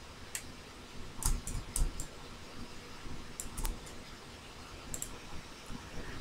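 Ctrl+Shift key presses and mouse clicks while copying shapes in PowerPoint, heard as sparse light clicks in small clusters over a quiet room hum, no speech.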